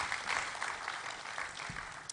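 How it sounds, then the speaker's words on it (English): An audience at a South-East stakeholders forum claps steadily for a speaker, a short burst of dense, even applause from a crowd throughout, with no talking. "Please let's clap for him a little more"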